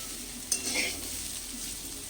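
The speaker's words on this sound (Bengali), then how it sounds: "এখন ভালো করে একটু আবারও ভাজতে হবে" Ingredients for prawn pulao fry in white oil in a pan, a steady close sizzle with a brief scrape of the spoon stirring early on and continuous crackling hiss throughout.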